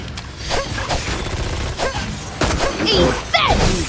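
Gunfire and crashing impacts from the video game Devil May Cry during a busy fight, with dense shots layered over game effects and a constant bed of action noise.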